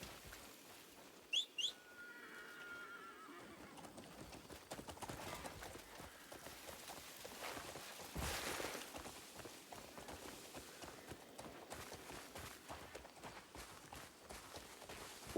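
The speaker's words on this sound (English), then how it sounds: "Ride a horse, isn't it?" Horse hooves clip-clop at a walking pace while riding in the video game Crimson Desert, soft and steady throughout, after a couple of brief sharp sounds near the start.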